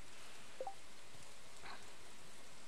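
Rain in the video game Stardew Valley falls as a steady soft hiss of static-like patter with no breaks, with only a couple of tiny blips and no voices.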